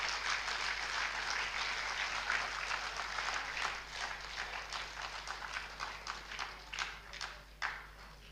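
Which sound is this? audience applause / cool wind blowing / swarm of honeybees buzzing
audience applause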